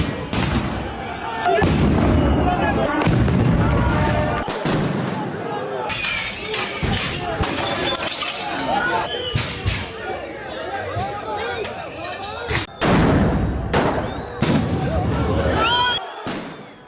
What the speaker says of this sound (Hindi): बेकाबू प्रदर्शनकारियों ने पेट्रोल बम फेंका है